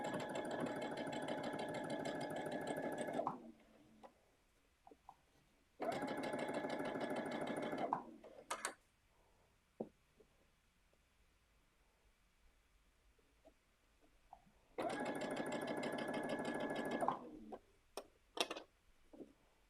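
A sewing machine stitches bands onto fabric in three separate steady runs of several seconds each, with quiet pauses and light handling clicks between them.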